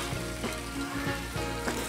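Corned beef frying in a hot skillet, a steady close sizzle with crackling pops running throughout, loud and unbroken, with no voices.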